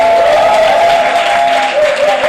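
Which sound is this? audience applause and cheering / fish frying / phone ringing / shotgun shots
audience applause and cheering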